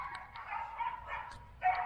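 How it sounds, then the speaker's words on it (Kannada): Several dogs kept at a neighbouring house bark in the distance, their yaps and bow-wows faint and intermittent over a low steady background hum, with a slightly louder burst near the end. "ಇವ್ರ ಮನೆ ಪಕ್ಕದಲ್ಲಿ ನಾಯಿಗಳು ಸಾಕೋರೆ ಒಂದು 5-6"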